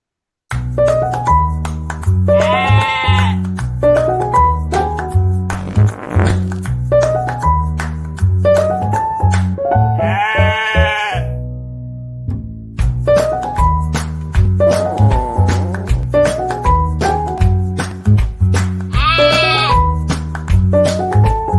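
Goats bleat loudly and repeatedly at close range, the calls overlapping in a steady chorus with a few longer, wavering cries standing out.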